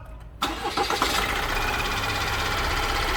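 An Opel Astra K engine with a suspected timing chain noise cranks and catches after a brief silence, then settles into a steady, loud idle with a busy mechanical rattle.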